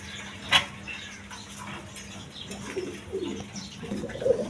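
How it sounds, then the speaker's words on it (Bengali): Pigeons, including a male Lahori Sirazi, cooing softly at close range in a loft, with low repeated coos and a brief sharp sound near the start, over faint background noise. "এখানে দুইটা নর কবুতর আছে"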